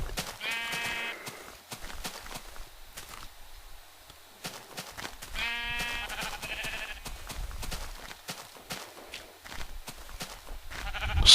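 Sheep bleat in a Minecraft game, several wavering calls at about one and five seconds with another near the end, over soft in-game clicks and footstep sounds.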